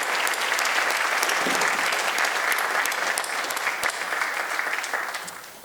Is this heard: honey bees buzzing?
no